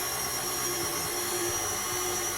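An electric mixer beats cake batter made with vanilla, switched back on after the bowl is scraped, giving a constant whirring hum that runs without pause for a couple of seconds, no voices.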